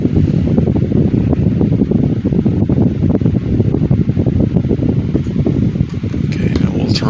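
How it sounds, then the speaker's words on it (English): A 2010 Midea 12-inch FT30-8MB oscillating table fan runs steadily up close, producing a loud, continuous whooshing airflow with a soft rhythmic flutter and no voices. "love the sound of these old desk fans."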